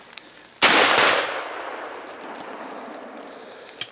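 A single loud gunshot rings out during outdoor rabbit and small game hunting, a sharp close report with a decaying echo, followed by faint rustling.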